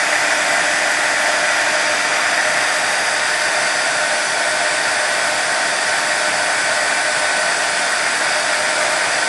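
A heat tool blows hot air onto shrinking craft foam, making a loud, constant whooshing hiss at close range with no breaks.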